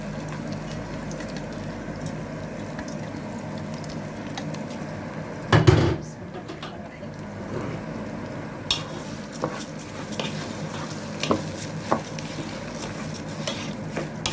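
Rice is stirred in a pot with two spoonfuls of ghee, giving a steady close scraping sizzle with a louder clatter near the middle and small taps later.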